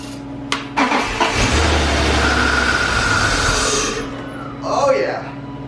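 BMW E36 328i left abandoned for years cranking and starting up, a sharp crank then a rough loud idle with a steady hum that cuts out, followed by a person speaking briefly.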